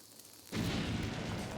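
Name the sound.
bomb explosion in The Legend of Zelda: Link's Awakening video game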